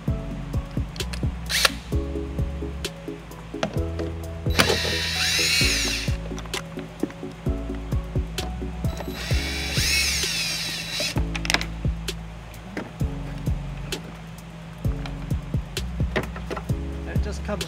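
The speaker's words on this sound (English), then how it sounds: "we have two Phillips screw fasteners here that we need to take off to get the light to come out" Power driver backing out two Phillips screws holding the taillight on a 2011 Ford Escape, with two bursts of whirring at close range, each lasting about a second, amid handling clatter and someone talking.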